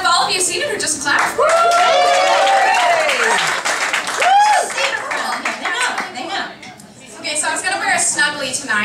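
Theatre audience clapping in a steady wash, with a voice talking over and between the applause as it carries on and then tapers.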